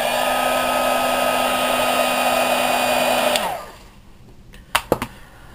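A heat tool blows steadily to heat-set a handmade lace ribbon flower, a constant whirring hum that cuts off and winds down, followed by a few quiet clicks.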